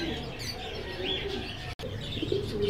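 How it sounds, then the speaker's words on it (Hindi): Pigeons coo softly at a busy Sunday bird market on Kasi Road, Quetta, low burbling calls repeating under a constant background hum, with a brief dropout partway through. "ये तोसी कबूतर है,"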